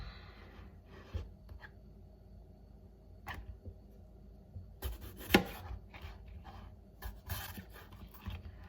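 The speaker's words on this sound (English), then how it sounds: "I'm gonna cut some peppers" Kitchen knife slicing peppers on a cutting board, quiet irregular taps and crisp cuts spaced across the span, with one sharper chop near the middle, close and soft in an otherwise still room.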